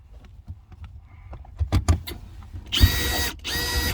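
A power drill whirs in two loud bursts while working on a 4.3 Chevy Vortec engine, preceded by light metallic clinks and taps of tools nearby.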